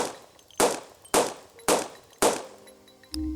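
Four sharp, evenly spaced shotgun blasts ring out in a Resident Evil remake built in Unreal Engine 5, each with a bright decaying tail, then a brief mechanical hum ends the run.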